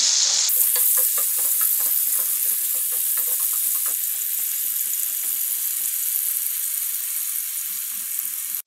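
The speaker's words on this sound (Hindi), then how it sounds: "हमने आलू, गाजर, सेम और फ्रेंच बीन को 3 मिनट के लिए फ्राई कर लिया है।" Potatoes, carrots and French beans frying in a pan: a loud, even sizzle with rapid stirring and scraping strokes throughout, close and uninterrupted, no voices.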